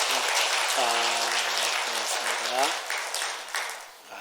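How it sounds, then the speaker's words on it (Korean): A church congregation claps for a deacon who is now a university professor, a dense broadband wash of applause throughout, with a voice speaking over the clapping near the start and middle. "일어나셨으니까 우리 힘내시라고 박수 한번 드릴까요?"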